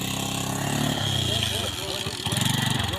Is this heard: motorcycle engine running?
yes